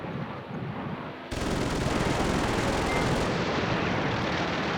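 Airstrike explosions and gunfire in the Command Ops 2 war game form a dense, continuous roar of blasts and rattling fire that grows louder partway through and stays steady and loud, with no voices.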